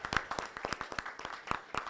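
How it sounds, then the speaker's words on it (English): Applause from a workshop audience at an Eastern Africa resource mobilization event in Kenya, sparse rhythmic hand claps close by, fairly light and even. "please give them a round of applause."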